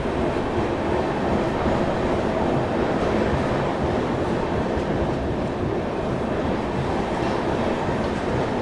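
The Bihar Express running with Patna Rajdhani coaches attached, heard as a continuous loud rumble and roar of moving rail cars, dense and steady throughout with no voices.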